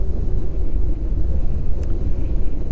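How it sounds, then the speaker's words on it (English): Strong coastal wind at Silecroft in the Lake District buffets the microphone with a low, continuous rumble, gusting throughout with no voices. "Windy today."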